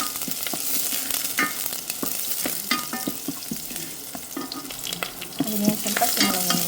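Ginger and garlic fry in a hot pan while being stirred, steady close sizzling broken by scraping utensil strokes and clinks.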